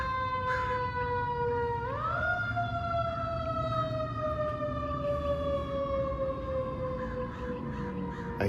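A fire truck siren passes through a park area, a loud sustained wail that sweeps up and then slowly glides down as it moves by, with crows cawing in the background.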